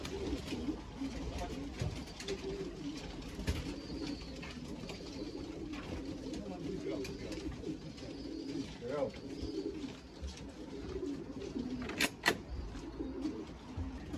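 Pigeons coo in soft, repeated low calls over steady outdoor background noise, with some faint voices and brief rustling bursts near the end.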